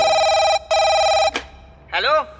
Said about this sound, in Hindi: उस कॉन्ट्रैक्टर का मुझे फोन आया।